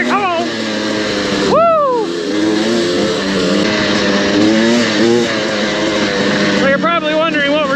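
Two-stroke KTM TM300 dirt bikes ride a rough trail, their engines revving and rising in pitch through sharp accelerations, steady and close throughout, with a voice talking over the engine noise.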